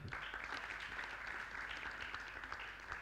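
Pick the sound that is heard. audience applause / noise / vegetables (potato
audience applause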